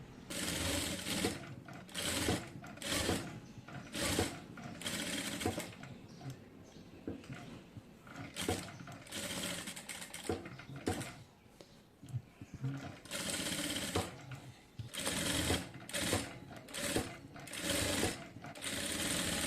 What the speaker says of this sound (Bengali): এটিকে আমি এখান দিয়ে হচ্ছে সেলাই করে এই পট্টির কাপড়ের সাথে হচ্ছে জয়েন করব